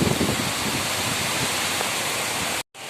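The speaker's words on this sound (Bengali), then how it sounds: "যেমন ঝড় তেমন দেখো বাপরে প্রচুর বৃষ্টি হচ্ছে" Heavy storm rain pours down steadily, a loud, dense wash of noise that fills the scene before a brief sudden dropout near the end.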